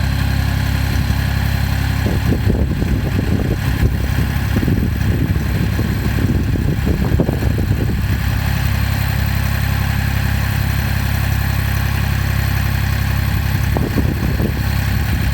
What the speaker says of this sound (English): Now he is at idle speed.